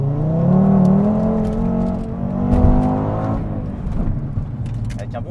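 A car accelerating hard out of a roundabout on cobbled pavement, engine revving loudly with rising tone close by, under occasional talk.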